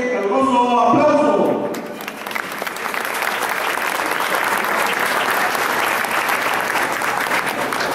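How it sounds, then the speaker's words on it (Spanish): A crowd at a high school graduation ceremony breaks into loud, sustained applause that swells right after a voice and fills the hall evenly to the end. "Recibámoslo con un fuerte y caluroso aplauso"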